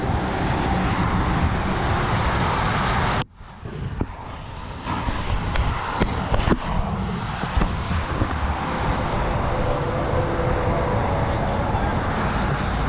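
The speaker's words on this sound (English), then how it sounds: "We can hear the cars." Steady roar of highway traffic on I-95 heard from a trail passing near the interstate, a broad continuous wash of passing cars that briefly drops away before returning at a constant loud level.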